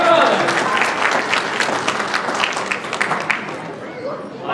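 Wedding guests at a Melbourne function venue clap in a round of applause, moderately loud and tapering off over a few seconds, with some chatter mixed in.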